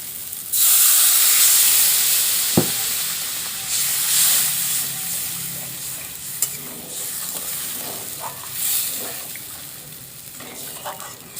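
Water hits hot fried spice paste in a pan for a fish curry, bursting into a loud hiss of sizzle and steam that slowly fades, with stirring clinks scattered through.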